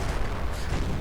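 Dense, continuous rumble of heavy gunfire and munitions pounding a building in a WWII strategy video game, a loud unbroken barrage of booms and cracks with no clear gaps.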